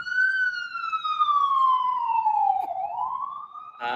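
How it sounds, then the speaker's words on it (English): A single emergency vehicle siren wails on a New York street, its tone sliding steadily downward then rising again, loud and close, with a brief sharp knock near the end and no talking. "We got some sirens in the background."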